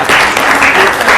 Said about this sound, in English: I expected a round of applause.